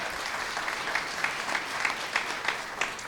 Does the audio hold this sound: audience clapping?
yes